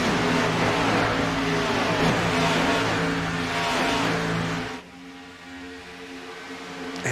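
Race cars of the Superior Class Auto Racing League at Texas Motor Speedway roar loudly and steadily with layered engine drones for nearly five seconds, then the sound drops abruptly to a quieter, distant hum.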